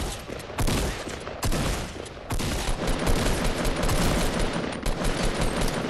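Rapid automatic assault rifle fire in Fortnite, loud sustained bursts with brief gaps, close and continuous across the whole stretch.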